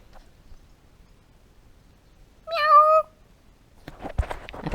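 A single clear cat meow, mid-length and fairly close, rises out of near silence, followed by some faint rustling and shuffling noise.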